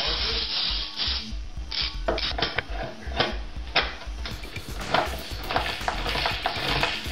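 A clamp is squeezed down on a cardboard box to compress cardboard shims while assembling an Enigma Stick kit, producing close scraping and rubbing with a series of sharp clicks and creaks.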